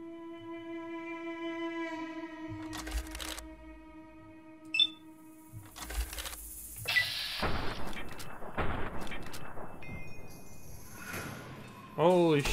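Gunfire in Fallout New Vegas: a few sharp, loud shots and bursts break through a steady hum of game music, with one player talking over the action.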